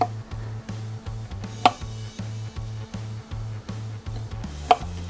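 Fresh ginger being peeled with a sharp knife on a cutting board, with a regular run of soft, low scraping strokes and two sharper knocks, close and alone.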